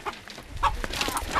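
A chicken clucks and squawks in agitated bursts while men in a village scramble to catch it, heard fairly close with no clear talk.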